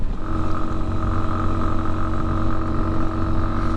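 A 2020 Sinnis Terrain 125cc adventure motorcycle engine drones steadily at high revs, loud and close, a continuous buzzing tone held through the gears without pause.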